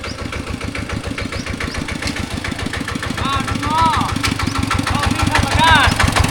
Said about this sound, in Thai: เสียงรถไถดัง